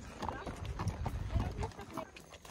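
Horse hooves clip-clop at a quick pace during a horse ride on Réunion, the steady beats close by and partly under people talking.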